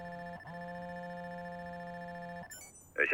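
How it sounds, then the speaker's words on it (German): A telephone rings in the video game Watch Dogs: a long steady electronic ring tone with a brief break near the start, cut off just before a short burst of other sound at the end. "Telefon klingelt wahrscheinlich gleich wieder."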